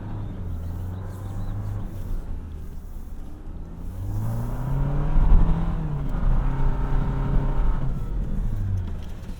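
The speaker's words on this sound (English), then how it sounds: "The windows down, engine does sound a little bit grainy" A 2024 Toyota Land Cruiser 1958 drives off road with the windows down, its engine droning and rising in pitch as it accelerates through gear changes, steady and close with a slightly grainy tone.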